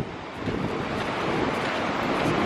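Strong wind roars across a beach during kitesurfing near dunes, steady broadband gusting with wind buffeting the microphone and surf mixed in, loud and continuous with no talk.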